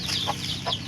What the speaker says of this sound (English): 12 chicks with the mama.